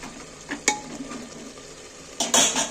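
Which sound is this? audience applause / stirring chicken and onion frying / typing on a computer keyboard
stirring chicken and onion frying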